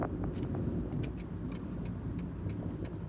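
A car drives through the small windward-side town of Kailua on Oahu, Hawaii, giving a steady low road rumble from inside the vehicle with light intermittent ticks and clicks.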